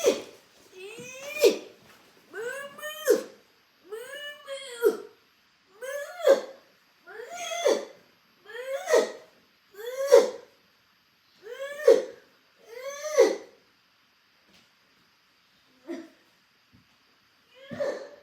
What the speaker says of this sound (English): The sound you just heard was the sound of a 9-year-old going poop.